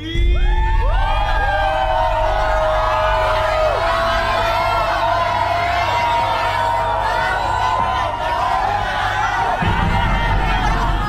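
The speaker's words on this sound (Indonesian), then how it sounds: "Kenapa ada teriak-teriak nih? Kenapa ada teriak-teriak?" A crowd of people shouts and cheers loudly and continuously, with many overlapping voices rising and falling in pitch and whoops layered over a thick, constant roar.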